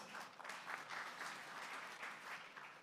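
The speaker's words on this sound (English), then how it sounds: "A round of applause." An audience applauds a speaker being introduced at a debate on foreign universities in India, steady clapping of moderate size, heard at a distance and fairly quiet throughout.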